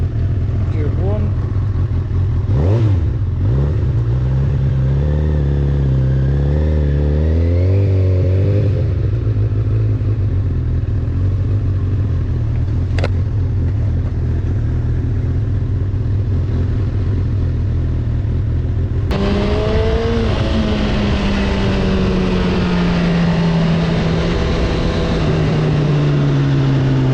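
A Honda CB1000R motorcycle pulls away in first gear, its engine note climbing steadily and then shifting up with a strong, close rumble that carries through the whole stretch, with wind noise and some talk over it.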